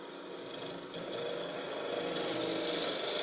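A spindle gouge cuts into the center of a wooden box blank spinning on a lathe, a continuous rasping, whirring scrape that swells slightly louder and holds steady, close and alone.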